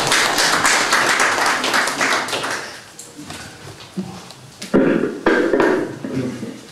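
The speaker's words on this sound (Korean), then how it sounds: "여러분 큰 박수로 환영해 주십시오." Audience applause welcomes a guest, an emeritus professor, at a media coalition's first-anniversary ceremony: claps fill the first few seconds, thin out, then swell again in a fresh burst, some hands close and sharp.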